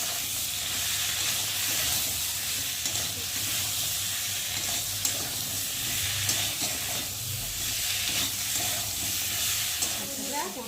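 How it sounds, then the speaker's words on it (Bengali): Chili powder and turmeric frying with potatoes in a hot pan give a continuous, even sizzle with soft stirring scrapes, close and steady throughout. "দিয়ে ভালো করে মশলাটাকে ভেজে নেব"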